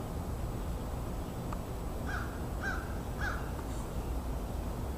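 Several crows caw in a residential neighborhood, a few short harsh calls spaced about half a second apart over steady low background hum, fairly distant and moderate in level.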